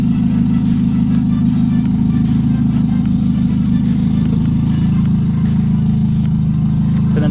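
An old car's engine runs steadily on its first test drive after restoration work, a loud, constant low drone with a rough idle character and a faulty silencer, unbroken from start to finish with no speech.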